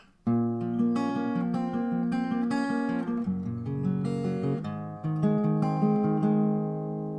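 A picked guitar intro plays on its own, individual notes plucked in a steady flowing pattern for several seconds, clear and close, with no voices.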